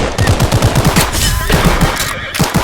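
Loud automatic submachine gun bursts in the shooter game Glory Frontline, a fast rattling string of shots, a brief pause, then more rapid volleys close up.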